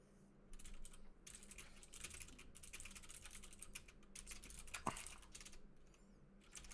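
Typing on a GMMK RGB computer keyboard at a work desk setup, a steady run of close, quiet key clicks with no talking.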